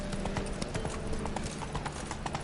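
Roach, Geralt's horse in The Witcher 3, trots with a steady clip-clop of hooves, close and continuous over a dense game soundscape, with no voices.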